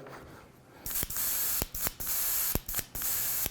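A paint spray gun hisses close by in several sharp bursts separated by brief pauses, spraying opaque white paint, with no one talking.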